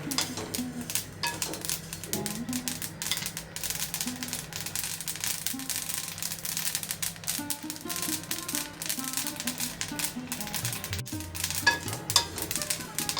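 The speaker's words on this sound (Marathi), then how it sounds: "बघा तीळ भाजताना असा आवाज येतो चटचट उठतात" Dense, steady crackling and popping of sesame seeds roasting in a pan continue throughout, with faint tonal sounds in the background.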